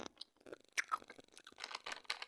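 Someone chews food close to the microphone, with soft, irregular crunching bites and no talking.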